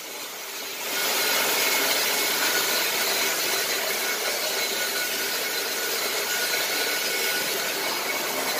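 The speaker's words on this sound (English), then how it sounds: "He's just rinsing it out, picking it up with the Rotovac." A Rotovac machine rinsing and extracting on ceramic tile and grout at 300 PSI, a loud steady whooshing roar that starts after a second and holds evenly, alone without talk.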